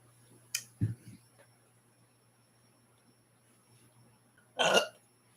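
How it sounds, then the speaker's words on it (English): Two short, low burps from a person, one early and a louder one near the end, separated by a long quiet stretch with faint background hum. "I burp a lot"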